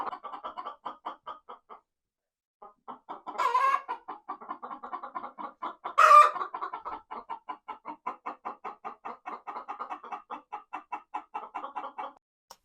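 A hen in a Finnish countryside chicken house clucks steadily in rapid pulsed bursts, building to two louder squawking cackles before an egg is laid, heard up close with no talk.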